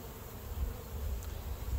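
Honey bees from a package being installed into a hive give off a soft, steady low buzz that swells slightly midway and continues unbroken, with no voices.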